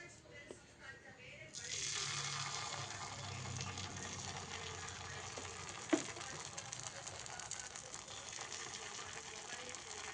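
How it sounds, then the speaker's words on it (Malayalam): Jackfruit batter poured onto a heated stone griddle sets off a steady soft sizzle that rises suddenly and holds evenly, faint and close, with one small clack partway through. "കല്ല് ഏതാണ്ട് ചൂടായിട്ടുണ്ട്. ഇതിലേക്ക് നമ്മൾ ചക്ക അരച്ച മാവ് ഒഴിച്ചു കൊടുക്കുകയാണ്."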